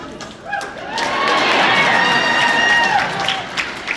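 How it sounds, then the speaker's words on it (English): A sparse smattering of audience applause at a convention panel, a few scattered claps and light cheering swelling briefly then fading, with voices mixed in. "I love the smattering of applause there."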